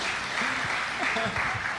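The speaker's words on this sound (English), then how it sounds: "Where is the applause then?" Audience applause at a marketing and partnerships talk, a dense steady wash of clapping with faint voices mixed in underneath.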